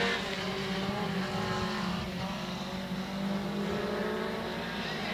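Race cars, among them a Ford Pinto and a Mustang, lap Heart O Texas Speedway at speed, their engines blending into a continuous, distant, faint roar with no talk over it.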